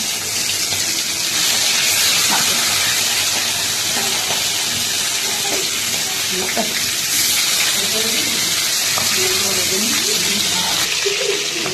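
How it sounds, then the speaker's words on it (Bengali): Koi fish frying in hot, smoking oil in a wok, a steady close hiss and sizzle running throughout, with faint crackles and kitchen clatter. "তারপর মাছগুলোকে ভাজবো। কড়াইতে দিয়ে দেবো মাছগুলো।"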